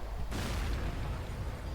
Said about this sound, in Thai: มันเรียกว่าไบโอบอม